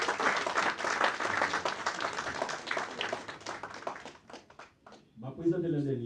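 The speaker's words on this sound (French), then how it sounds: "Applaudissez pour moi." A live audience claps and cheers at length, dense broadband applause filling most of the stretch before thinning out, with a voice and music-like tones rising at the end.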